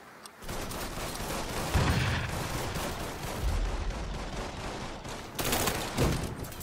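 Heavy gunfire in the Mafia 3 video game erupts in dense, sustained bursts, loud and close, with sharper volleys flaring near the start and again toward the end.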